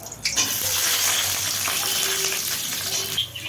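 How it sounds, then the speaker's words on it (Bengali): Chopped onion dropped into hot mustard oil, a sudden loud sizzle that settles into steady close frying crackle, with light stirring noises near the end. "তো তেল গরম হয়ে এসছে, এবার আমি দিয়ে দিচ্ছি পেঁয়াজ কুচানো।"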